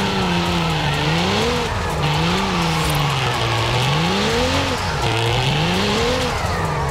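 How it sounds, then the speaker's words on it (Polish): A Cadillac CT4-V Blackwing spins donuts in Forza Horizon 5, its tires squealing nonstop while the engine note rises and falls steadily, loud and close throughout. "Można sobie bączki pokręcić, ale czy zrobimy jakiś taki ślizg na standardzie?"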